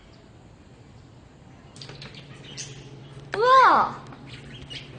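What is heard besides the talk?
parrot calling at a zoo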